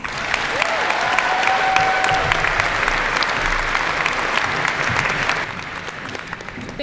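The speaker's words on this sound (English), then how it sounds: "So everyone, please give a round of applause and welcome Ms." Graduation crowd applause at a high school commencement ceremony, a broad, loud stretch of many people clapping with a few cheers and whistles, easing off slightly toward the end.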